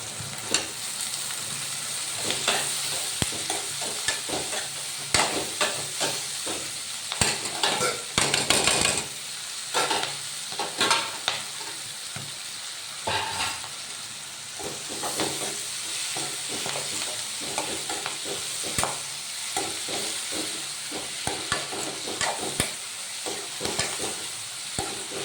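Vegetable curry cooks in a pan with a steady, close sizzle and bubbling that runs throughout, broken by scattered clinks and knocks of a spoon against the pan.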